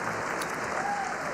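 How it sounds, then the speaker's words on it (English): A large audience in the US Congress chamber claps for Israeli Prime Minister Benjamin Netanyahu as he reaches the podium, a brief, even wash of many hands with no voices over it. "Everybody's clapping for him."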